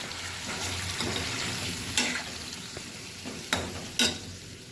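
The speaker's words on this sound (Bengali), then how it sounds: "আর এই পনিরটা যা ম্যারিনেট করে রেখেছিলাম সব এর মধ্যে দিয়ে দেবো" Marinated, salted paneer cubes frying in an oiled pan give a steady, hissing sizzle, broken by a few sharp clinks and scrapes of a spoon stirring them.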